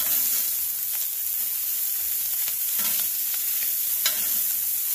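Pastrami frying on a hot griddle in leftover seasoning gives a steady, even sizzle with faint scraping ticks, close and fairly quiet, with no talking.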